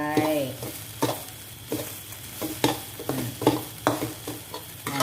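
Spices and fish for jaew bong are dry-roasted in a pan, with a steady sizzle under repeated scraping stirs that land roughly every half second, close and fairly loud, with no voices.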